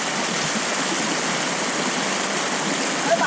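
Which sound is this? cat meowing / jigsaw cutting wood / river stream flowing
river stream flowing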